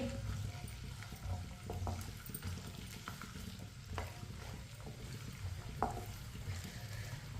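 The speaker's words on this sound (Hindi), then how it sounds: "लहसुन और प्याज को हल्का सा ब्राउन कर लेंगे" Finely chopped onion and crushed garlic fry gently on medium heat, giving a soft, steady sizzle with occasional spoon scrapes and clinks, fairly quiet throughout.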